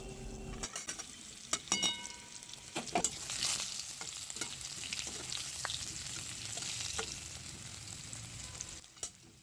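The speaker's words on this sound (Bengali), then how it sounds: "এবার আলুগুলো ভালো করে ভেজে নেওয়া হবে" Oil sizzling steadily as parboiled potatoes with a little turmeric fry in a pan, with sharp scraping and clinking of a spatula stirring at intervals.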